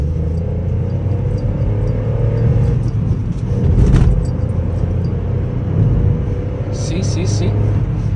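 Engine of a Volkswagen Polo 1.2 MPI, ten years old, droning loud and close from inside the moving car, with a couple of swells as it revs during downshifts over steady road rumble.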